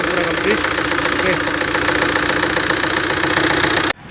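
Tata Safari Dicor diesel engine idling after a rebuild, with injectors refitted, a steady close clattering rumble with even knocking that cuts off abruptly near the end.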